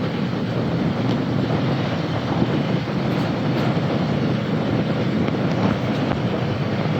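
Wind roars across a sailing yacht racing in the Coastal Classic at around 16 knots of breeze and nearly 10 knots of boat speed: a loud, steady, broadband rush that stays constant throughout, with no speech.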